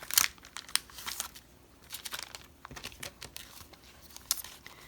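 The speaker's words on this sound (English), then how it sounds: "And then I was going to take a sticker from the sticker book." A sticker is peeled from a paper sticker book, with close crinkling, rustling and light crackling of paper and backing sheet over a few seconds, with no talk.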